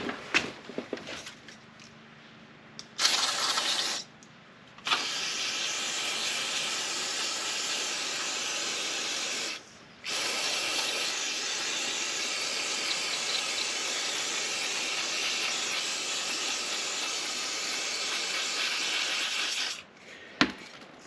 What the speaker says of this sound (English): we're going to get a little carbon choke cleaner